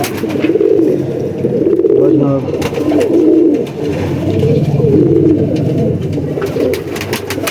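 Kasuri pigeons coo continuously in a loft, a dense overlapping chorus of low throaty rolling calls that stays loud and close throughout.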